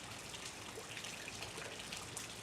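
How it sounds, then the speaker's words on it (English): Steady rain falls outdoors around a barbecue pit, a dense, even patter and trickle with no pauses, fairly close and continuous. "Yes, it's raining."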